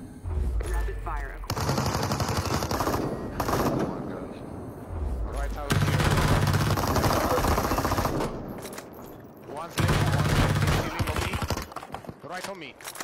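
Rapid bursts of video game gunfire crackle in dense volleys, with loud stretches of automatic fire and short gaps between them, while players talk excitedly over the shooting.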